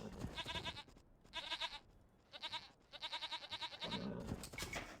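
Sheep in an Age of Empires-style strategy game let out a run of quavering bleats, several pulsing calls in quick succession separated by short gaps, fairly faint and without talking.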